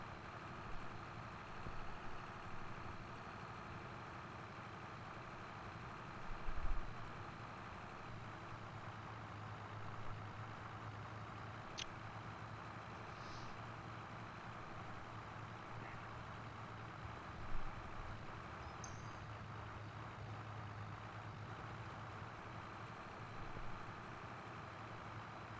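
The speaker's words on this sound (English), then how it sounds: "Definitely need a taller tractor." Steady low tractor engine drone in Farming Simulator 22, running continuously and evenly throughout with no talk, a few faint clicks and bumps over the constant hum.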